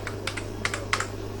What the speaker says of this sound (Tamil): ஃபுல்லாக டைப் பண்ண அவசியம் கிடையாது, என்டர் அடிச்சுக்கலாம்.